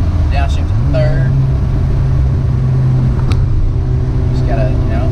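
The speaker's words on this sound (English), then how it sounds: "I'm coming up to a curb, downshifting third" A manual car engine hums steadily from inside the cabin as the driver downshifts into third approaching a curve, the engine note stepping up in pitch, with a person talking over it.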